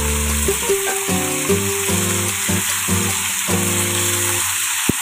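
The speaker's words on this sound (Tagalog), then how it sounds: "Hinahayaan ko siya na ma-fry kunti sa ilalim kagaya nito." Pork frying in a pan for Filipino menudo, left unstirred so it browns on the bottom: a steady, close sizzle with some tonal ringing and soft stirring clicks, with no talking.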